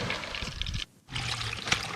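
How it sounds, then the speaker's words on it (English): Tap water runs and trickles while vegetables such as okra, tomato and Irish potato are washed. The splashing is steady and close, with a brief pause midway before the flow resumes. "so I'm currently washing the vegetables"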